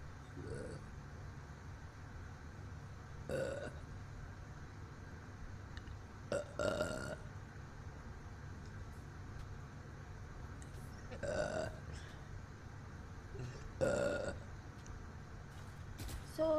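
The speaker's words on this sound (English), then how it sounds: "I start burping because I'm gonna throw up." A woman suffering motion sickness burps several times at irregular intervals, the short croaky burps spread over a steady road and car background hum.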